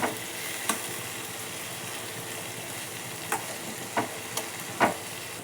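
Tomato and ginger garlic paste fry in a pan for a dhaba-style mushroom gravy, giving a steady sizzle throughout, broken by a few sharp scraping and stirring knocks.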